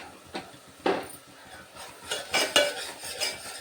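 Masala being dry-roasted and stirred in a pan for a crab curry, heard as a few distinct scraping, clinking spoon strokes against the metal with quieter shuffling between them, close and moderately loud, with no one speaking.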